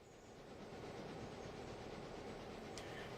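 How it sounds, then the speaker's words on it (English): Steam passenger train in the railway game Railroader, pulling in at Nantahala: a faint, steady rolling rumble with soft rail clatter, distant and continuous, with no voices. "I can hear a steam train."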